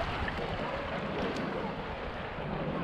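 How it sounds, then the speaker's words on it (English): Sea waves hitting rocks heard while swimming, a steady, dense wash of noise that rushes on without a break, moderately loud and close, with no voices. "you can probably hear the waves just hitting those rocks"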